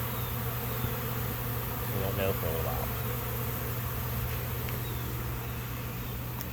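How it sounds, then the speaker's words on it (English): Honeybees swarming around a hive produce a constant, dense buzz that hangs close and loud throughout, with someone briefly speaking over the droning insects. "The usual air is filling with bees."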